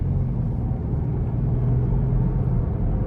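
A 2017 Range Rover HSE with a supercharged V6 is driving, heard from inside as a steady low engine and road rumble, smooth and continuous with no talk.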